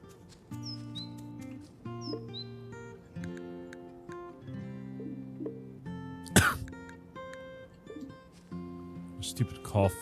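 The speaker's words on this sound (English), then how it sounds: "Stupid cough." A short, harsh cough bursts out loud and close about two-thirds of the way through, with another brief throaty sound near the end, over steady game music with bird chirps.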